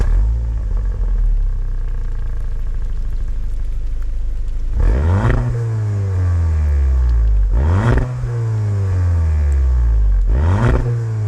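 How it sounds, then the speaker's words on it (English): A Volkswagen Jetta GLI exhaust idles low, then revs hard three times, each rise swelling into a deep roar and falling back, loud and close. "The Jetta GLI, well, that one sounds like this."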